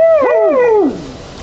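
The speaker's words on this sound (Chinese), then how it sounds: "这是小时候的猞猁，当它长大后，" An adult lynx gives a loud, drawn-out yowling call lasting about a second, its pitch rising then sliding downward in a wavering howl before trailing off into quiet background.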